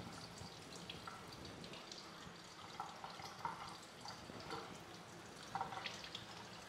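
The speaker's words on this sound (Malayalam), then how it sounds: "നമുക്ക് താഴോട്ട് നോക്കിയാൽ കാണാം ആ ഒരു കലത്തിൽ നിന്നിട്ട് വെള്ളം താഴേക്ക് പൊയ്ക്കൊണ്ടിരിക്കുന്നത്" Hot and cold water draining from a pot down through a pipe, a faint continuous trickle and gurgle with occasional drips and splashes, quiet and alone.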